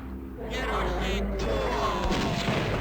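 Machine gun fire in the game Blood: Fresh Supply, a loud, dense, continuous rattle of rapid shots with booming impacts, sustained for the whole moment without a break.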